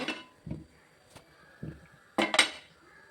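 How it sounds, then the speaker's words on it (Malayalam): Kitchen cookware clatters near the stove while biscuits are made without an oven: a short metallic clank, a couple of soft knocks, then a louder double clatter of a pan being set down, with no talk. "ഞാൻ ചട്ടി അടുപ്പത്ത് വെക്കുന്നുണ്ട്. ഒരു പാനിൽ അടുപ്പത്ത് വെക്കണം."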